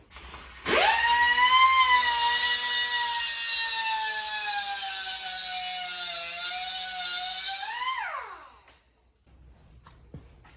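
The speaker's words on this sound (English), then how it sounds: "I guess I can just grind it back and it'll give me something." A power grinder whines loudly against metal parts on a scrap go-kart build, one sustained high spin-up run of about seven seconds that drops away as the tool winds down, then near silence.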